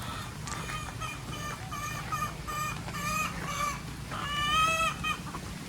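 Rhode Island Red chickens in a backyard poultry coop, with several birds clucking and squawking at close range, steady and overlapping, plus a few rising calls and faint low background murmur.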